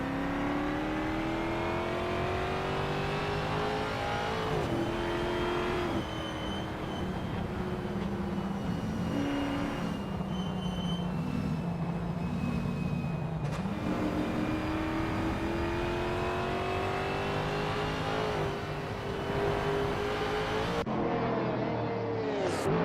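A 1960s-style race car engine in Assetto Corsa at the Montjuic circuit screams steadily through high-speed sections, the loud continuous tone rising and falling with gear changes and revs, with no voices over it.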